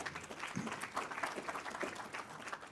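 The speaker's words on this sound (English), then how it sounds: "that's the first GO round of applause in the history of the MTA" Audience at a city law breakfast talk breaks into applause, a dense run of clapping from many hands that holds steady throughout, with no talk over it.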